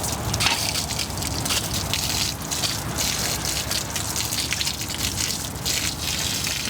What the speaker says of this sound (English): I'll rinse it off.